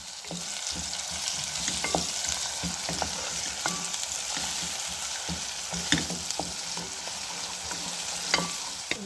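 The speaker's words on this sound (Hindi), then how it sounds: "अब हम इसके अंदर अदरक लहसुन का पेस्ट जो है वो ऐड करेंगे" Ginger garlic paste sizzles and fries steadily in a pan, a continuous crackling hiss with occasional scrapes of stirring, no talking.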